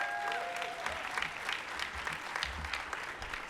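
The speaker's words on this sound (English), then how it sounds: "can we give him a round of applause," An award show audience claps in a steady, fairly faint wash of applause with slightly distant, roomy sound and a few murmurs beneath.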